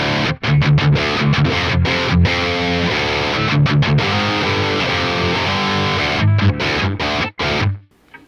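A Schecter electric guitar played through the default amp of the Neural DSP Archetype Nolly X plugin gives loud, heavily distorted chugging riffs with sharp palm-muted stops and gaps. It plays alone and ends abruptly.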